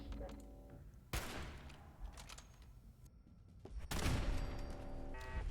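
Gunfire while destroying turrets in Fallout 4: sharp, fairly faint shots and bursts with a rolling crackle after them, sparse at first and then heavier near the end.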